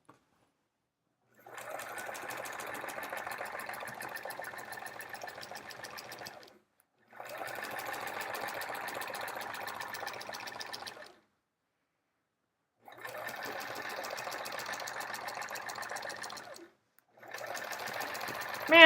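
A sewing machine quilts an hourglass block quilt with metallic thread through bulky layers, running in four steady bursts of rapid stitching separated by short pauses, close and clear.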